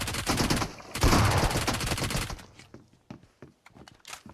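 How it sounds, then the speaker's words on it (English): Rapid automatic gunfire from a P90 submachine gun in the PUBG Mobile Metro Uprising mode, a dense loud burst over the first half that thins into scattered sporadic shots and clicks. "Take out the P90 and just go for the headshots."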